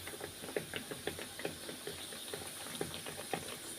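Small pieces of orange-flavoured dough sizzle and spit as they fry in hot oil, a steady close hiss broken by frequent light pops and crackles with no talking.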